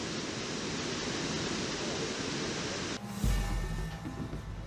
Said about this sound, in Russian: И за щебетом птиц я продолжаю слышать грохот водопада